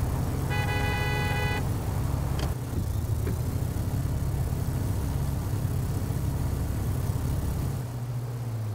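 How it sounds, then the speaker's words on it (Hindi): A car approaching from behind in the Taxi Life Simulator video game, a steady engine and road rumble throughout with a brief horn-like tone early on, no voices. "पीछे से कोई गाड़ी आ रही"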